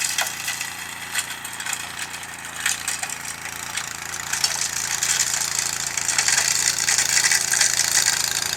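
A snow blower engine runs outdoors on a snowy day in Upstate New York, a continuous mid-pitched engine drone with gritty crunching and hissing that grows louder toward the end.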